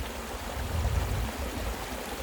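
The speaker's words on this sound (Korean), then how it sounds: "이런 맑은 개울물이 이렇게 쭉쭉 뺑 돌아서 흐르고 있는 그런 지역입니다" Clear stream water flows steadily over a bedrock creek bed, a constant broadband rushing with no voices, fairly close and even throughout.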